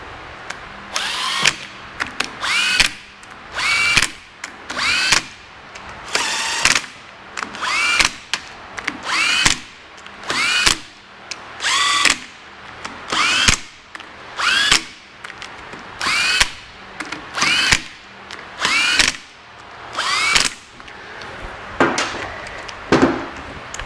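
A power drill repeatedly runs in bolts on an engine during a Bennche 800 motor build, about a dozen short close whirring bursts separated by pauses.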